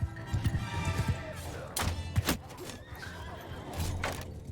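Horses in the medieval combat game Mount & Blade II: Bannerlord, whinnying and neighing amid clattering hooves and dull thuds, several loud cries overlapping through a busy battle din.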